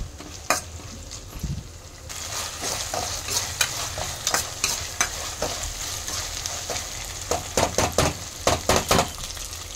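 Ginger garlic paste sizzles steadily in a hot pan while a spoon stirs and scrapes against the metal in repeated knocks, close and fairly loud.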